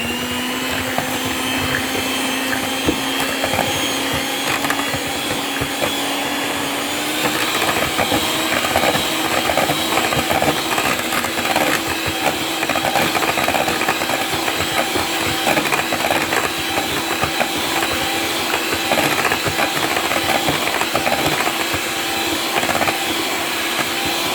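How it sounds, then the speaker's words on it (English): An electric mixer beats banana peach mamon batter in a steady, loud, continuous whir that holds for the whole stretch, with a slight shift in pitch partway through; no talking. "So simply you have to make sure you have to scrape it. It counts, you know. So beat this for 45 seconds."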